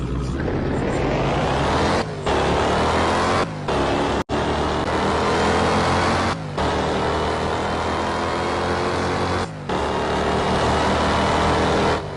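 Car engine in a Roblox roleplay game, a loud continuous synthetic engine drone with rising and falling pitch, broken by a few brief gaps, with no talk.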